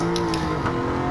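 An Aston Martin V8 Vantage S in a racing video game, its engine holding a strong steady drone as it revs on a straightaway, loud and close with no talking.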